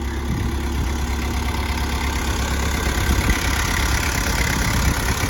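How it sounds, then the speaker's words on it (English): An older John Deere 24A skid steer with a small Isuzu engine idles nearby, a steady, continuous low rumble with no talk over it. "A 24A John Deere. Older skid steer, but boy, this thing does some work."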